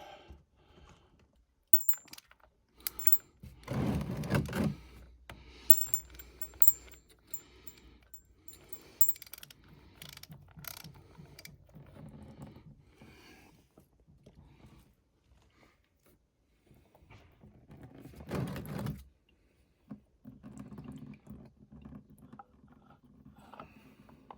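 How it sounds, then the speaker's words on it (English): Oil filter remover gripping and twisting the oil filter off a 2021 BMW R1250 GS Adventure motorcycle, with scattered mechanical clicks, ratcheting and scraping bursts interrupted by pauses, close and fairly quiet. "I've already got oil filter remover, so I'll put that in place. And hopefully easy twist off."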